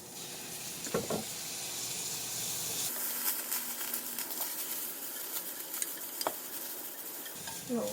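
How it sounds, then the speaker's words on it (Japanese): Radish stir-fried in sesame oil with dashi soy sauce added, giving a steady close sizzle and hiss that swells when the liquid hits the pan, with scattered stirring scrapes and clicks. "さっと炒めて、ごま油の香りがしてきたら、ここに、だし入り醤油を小さじ1杯ぐらい入れます"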